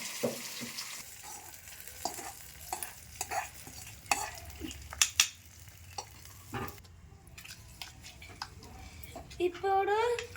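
Tempering for tomato roti chutney crackles and sizzles in hot oil, with stirring clicks and scrapes scattered through, then a voice rises briefly near the end.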